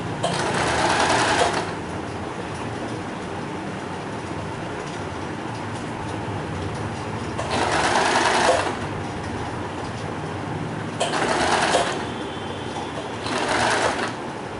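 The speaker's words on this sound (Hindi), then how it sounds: "तो ये देखिए, इसके साथ साथ मैं सिलाई लगाऊंगी।" A sewing machine stitches a satin ribbon mat, its motor running in several loud close bursts of rapid whirring separated by quieter stretches of low background hum.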